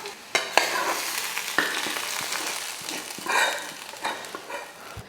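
Hot tempering of onion and green chili sizzles and crackles as it is poured into cooked greens, a hissing spatter with sharp pops near the start, fading and flaring again.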